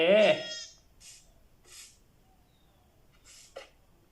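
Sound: sheep bleating in video game Minecraft

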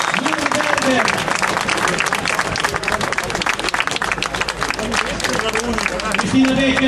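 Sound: audience applause at podium ceremony

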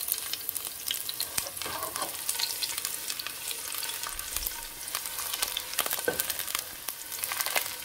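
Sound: onion frying in hot oil

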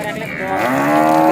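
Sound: cow mooing at a cattle market

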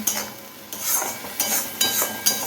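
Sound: sautéing food in a pan while cooking

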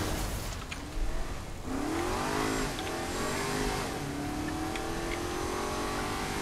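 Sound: video game car driving on cruise control

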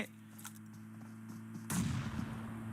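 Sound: grenade explosion in video game PUBG Mobile

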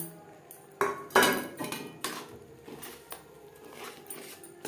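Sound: stirring fried semolina into sugar syrup in a wok

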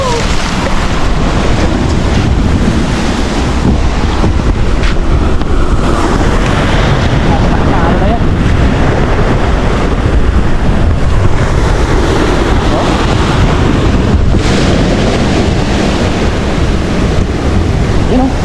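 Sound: ocean waves

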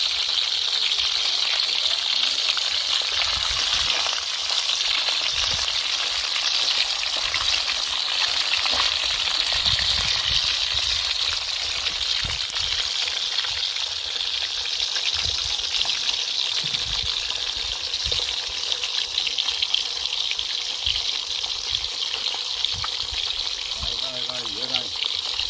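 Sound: snakeskin gourami fish frying in a pan

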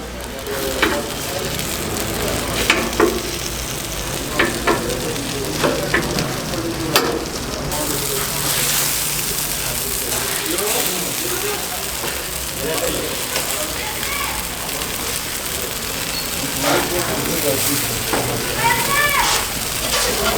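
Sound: chicken frying in its own fat

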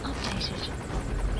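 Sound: helicopter overhead in video game Metal Gear Solid 5

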